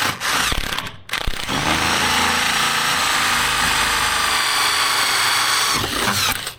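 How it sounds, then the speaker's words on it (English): A power drill whines loudly and steadily, drilling a hole in a rainwater tank, stopping briefly near the start before running on as a continuous high-pitched grind. "We're gonna drill a hole in there."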